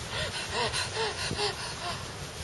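A storyteller's voice imitates an out-of-breath fox, with rapid rhythmic panting gasps repeating about five times, close and fairly loud.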